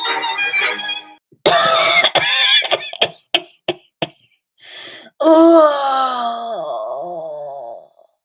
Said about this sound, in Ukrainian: голосно кашляв і видавав такий дивний звук, наче корова, коли смикаєш її за хвоста